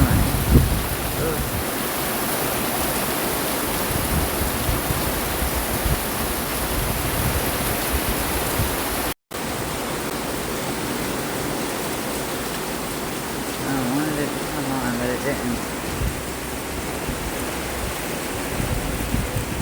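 Steady broadband hiss of rain falling, constant and enveloping, with a brief dropout midway and faint bird chirps in the background.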